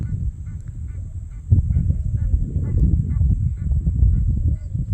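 A flock of flamingos in Djibouti honks and gabbles in a dense, continuous goose-like chorus, loud and close.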